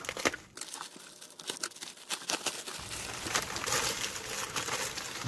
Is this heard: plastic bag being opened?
yes